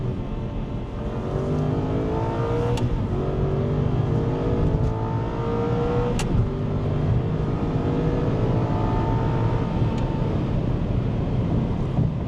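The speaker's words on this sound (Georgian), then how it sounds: "ყველაზე მეტად მომწონს ამ მანქანის ხმა." An Aston Martin Vantage S V8 engine hums and revs under load, with rising and falling tones and a steady, loud drone.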